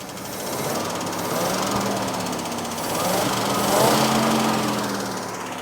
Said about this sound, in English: Let me give it a couple of revs, see how it goes.